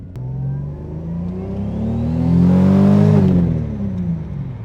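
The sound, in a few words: Toyota Supra turbo engine revving while driving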